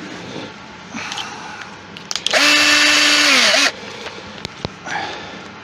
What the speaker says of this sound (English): grab a drill bit and the drill